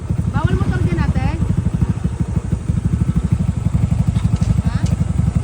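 A motorcycle engine runs nearby at a riverside beach resort, its close, steady chugging pulse continuing throughout while people talk over it.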